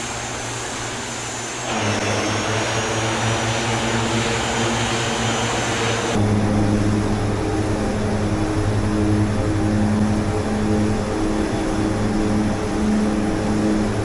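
Aerosoft Twin Otter turboprop in a flight simulator game spooling up to takeoff power and climbing out, with a loud steady propeller and engine drone that grows louder a few seconds in, a high whine riding on top.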